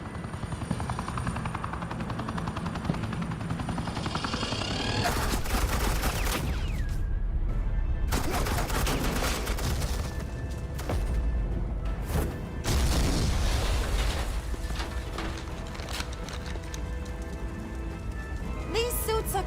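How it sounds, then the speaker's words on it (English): Suppressing gunfire from Agent Quinn in Batman: The Enemy Within, bursts of shots and booming impacts over a continuous helicopter-like rotor drone, loud and dense with abrupt cuts between blasts. "This is Agent Quinn, suppressing fire."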